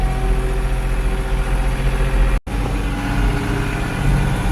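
A TN55S tractor engine runs steadily while pulling an 8ft topper mowing short grass in a field, a loud, continuous low drone with a brief dropout partway through and no talking.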